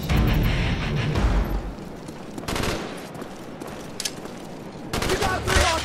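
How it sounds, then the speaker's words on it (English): Sustained assault rifle gunfire in Call of Duty Black Ops, loud, close bursts of rapid shots rolling almost continuously with brief lulls, over a dense battle din. "Let's use the assault rifle."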